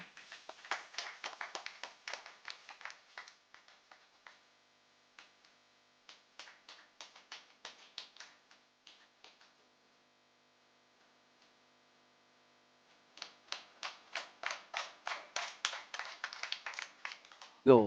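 Rounds of loud hand clapping from an audience at a building inauguration ceremony in Mangalore, in three bursts: a strong opening burst, a lighter patter in the middle, then a swelling final round after a brief lull.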